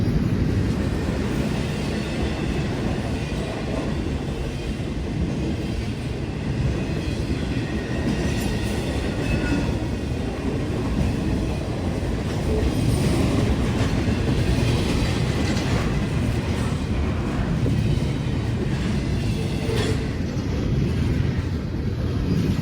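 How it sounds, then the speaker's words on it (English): A long intermodal freight train rolls past nearby at Elkhart, a steady rumble with rhythmic clickety-clack of wheels over rail joints, continuous and loud throughout. "22X is a high priority train, and they seem to be making good time today"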